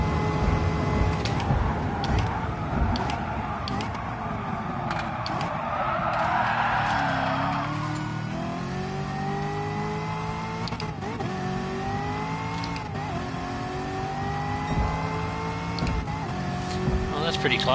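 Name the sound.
race car engine and tires in Gran Turismo 7 video game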